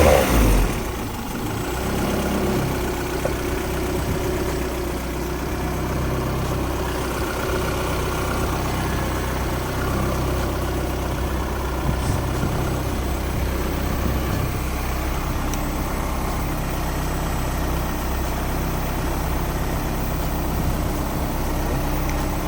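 A Honda Civic with an H2B engine swap idles steadily after a valve adjustment, a continuous low engine hum with no talking over it.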